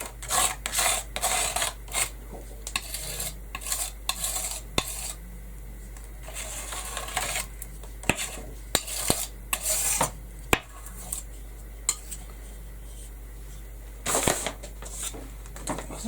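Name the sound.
scraping paint off a canvas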